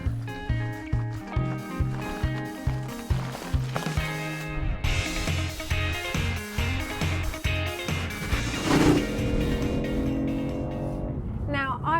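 A BMW i8's small three-cylinder engine revs up through gears, with rhythmic pulses and pitch climbs and a brief lull between shifts, heard from inside the car.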